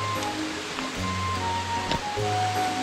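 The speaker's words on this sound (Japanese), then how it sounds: "見えてるね、百尋の滝。" Steady broadband rush of water from the partly frozen Hyakuhiro waterfall on a mountain trail, a continuous roar heard from a short distance with faint tones and small knocks over it, no talking.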